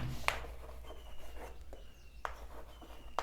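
Chalk or marker strokes on a classroom board during a physics lecture on oscillation and simple harmonic motion. Several short scratchy strokes and taps are spread irregularly over a steady background hum, with no talking.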